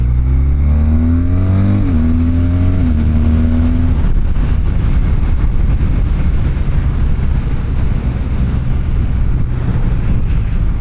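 A BMW R12 boxer motorcycle engine revs up in rising steps, then settles into a loud, rough, steady rumble with wind buffeting the microphone.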